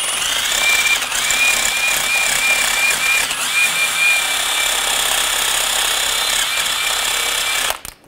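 A wire brush scrubs corrosion off the steering knuckle surface of a 2006-2010 BMW 550i during a front wheel bearing and hub replacement, giving a loud, continuous harsh scraping with a thin high whine, close by, ending abruptly.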